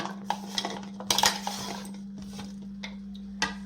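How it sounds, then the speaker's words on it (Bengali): A spoon clinks and scrapes against a bowl while tossing cucumber pieces. It gives a few sharp metallic taps and a busy cluster of stirring knocks over a steady low hum, with no voices. "এবার আমি শসাটা মাখাবো"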